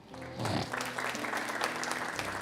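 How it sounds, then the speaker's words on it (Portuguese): A church congregation breaks into applause, a diffuse swell of many hands clapping that rises quickly and carries on steadily, with a voice sounding faintly underneath. "Uma salva de palmas para ela."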